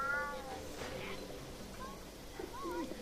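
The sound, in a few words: white cat meowing in video game Alice: Madness Returns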